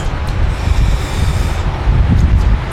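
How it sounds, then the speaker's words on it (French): Strong wind buffeting a microphone at an outdoor electric vehicle charging station, a loud, continuous low rumble with gusty surges throughout. "Il y a beaucoup de vent."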